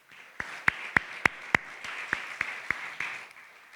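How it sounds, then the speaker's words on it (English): A small audience gives the speakers a brief, sparse round of applause: a handful of distinct claps stand out over a soft, rustling background of quieter clapping before it fades. "Let's give all of our speakers another round of applause,"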